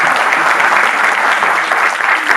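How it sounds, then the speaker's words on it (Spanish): Dense, continuous audience applause at a law book presentation, many hands clapping together in a full, steady roar that stays loud and even throughout. "el maestro Barroso, a quien también pido un aplauso"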